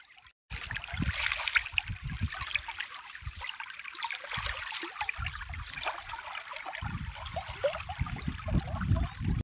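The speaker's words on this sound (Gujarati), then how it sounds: "જુઓ તમે હાલ આટલું પાણી આવે છે આપણા સરસ્વતી નદીમાં શાપરગોગથી આગળ" Water of the Saraswati river flowing past a temple, a steady rushing wash with low gurgling surges, close and continuous throughout.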